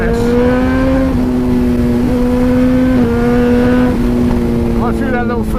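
Suzuki GSX-R 1000 motorcycle engine fitted with carbon wheels and a remap, droning steadily at cruising revs on the road, loud and close, with a slight rise and dip in pitch.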